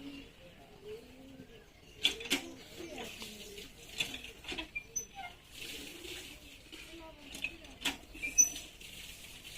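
Young pigeons in a loft coo softly with low, throaty warbles, mixed with light clattering and wing flutters, fairly close and quiet overall.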